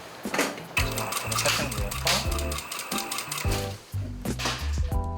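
A sewing machine stitching hat fabric in a handmade hat workshop, running in short rhythmic bursts with brief pauses, close and clear.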